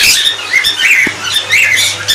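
Pet parrots including pineapple conures call in a breeding room, a dense chorus of shrill, overlapping chirps and squawks that continues throughout, fairly close and loud with no talking.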